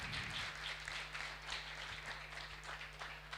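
Audience applauding event sponsors at a startup demo day, rhythmic clapping heard faint and somewhat distant over a steady low electrical hum.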